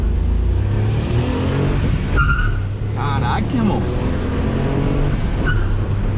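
Ford Ka hatchback pulling away hard and revving up through the gears, engine note rising and dropping at each shift, close and loud, with someone talking over it.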